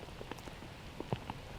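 Rain falls on an outdoor disc golf course, a faint, steady patter with a few scattered drop taps, quiet and without voices.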